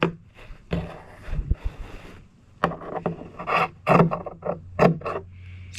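Carbon fiber repair material for a kayak being cut along a marked line, giving close, loud bursts of scissor-like snipping and rasping rubs in irregular clusters separated by short pauses.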